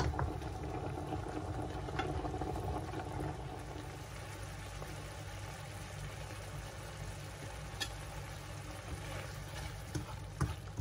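Seafood pasta sauce simmers in a pan, a steady close bubbling and sizzling that runs throughout with small pops, no talk over it.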